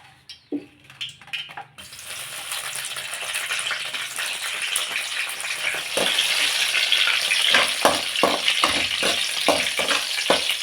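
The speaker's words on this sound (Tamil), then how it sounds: "ஒன்று ஒன்றா நம்ம இதை வறுத்துக்கலாம்" Dried and green chillies dry-roast in a pan, building to a steady crackling hiss with sharp pops and stirring scrapes toward the end, close and moderately loud, with no talking.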